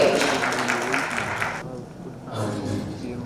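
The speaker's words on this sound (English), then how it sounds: "Can we give them a round of applause as they settle in on stage?" An audience applauds as panelists take the stage at a Kenyan forum on gender lens investing. The clapping is dense for about a second and a half, drops away briefly, then resumes more faintly.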